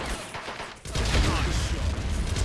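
Gunfire in the World War II strategy game Men of War: Assault Squad 2, a sudden burst of rapid overlapping shots and rumbling battle noise kicking in after a quieter start and continuing densely.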